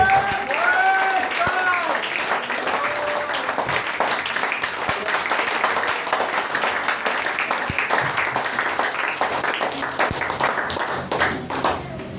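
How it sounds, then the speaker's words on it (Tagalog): A church congregation at a Sunday service applauds, a loud, dense, steady clatter of many hands that fills the room, with voices mixed in underneath. "Palapakan natin siya."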